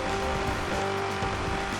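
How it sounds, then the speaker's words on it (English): Muscle car engine in GTA 5 roaring steadily and loudly throughout, a continuous low rumble with faint tire noise, no talk. "I honestly didn't expect a muscle car to sound like this."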